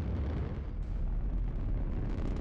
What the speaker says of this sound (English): Missile fire.